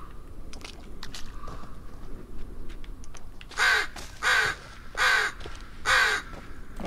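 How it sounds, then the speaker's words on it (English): Crows cawing in the Blair Witch video game, four loud, evenly spaced harsh caws over faint footsteps and ambient forest rustle. "Okay, we got crows now."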